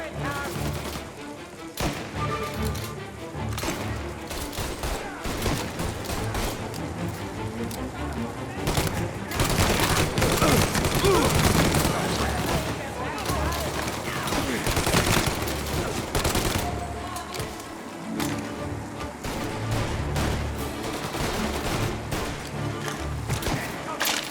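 Gunfire in the video game Mafia Definitive Edition during a gang ambush at a trade deal, dense continuous bursts of automatic and single shots with thuds, loud throughout the whole stretch.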